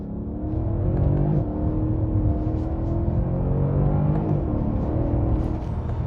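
A 2014 Mercedes-Benz CLS63S AMG accelerates hard on a dry open road with its wheels spinning, a loud, continuous engine roar heard from inside the car, rising and holding steady.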